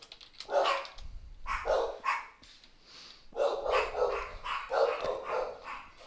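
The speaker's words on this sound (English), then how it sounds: "my dogs are barking" Dogs bark indoors in bursts, a few sharp barks followed by a longer flurry, fairly close and moderately loud, with some whimpering yips between.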